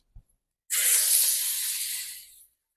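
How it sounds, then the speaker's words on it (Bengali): Chopped onion tipped into hot oil in a home kitchen, after cauliflower has been fried, bursting into a loud, steady broadband sizzle that runs for almost two seconds and then cuts off, preceded by a small knock. "পেঁয়াজটা ভেজে নেবো তেলের মধ্যে দিয়ে।"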